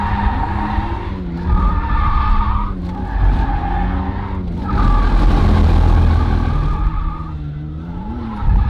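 A drifting car at a drift event, running tandem, gives loud, steady engine and turbo roar with tire squeal. The pitch rises and falls in repeated surges over several seconds, close and continuous, with no talk.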